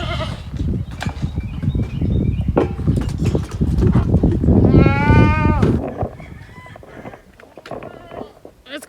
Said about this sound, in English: I'm going to go ahead and get the goats situated.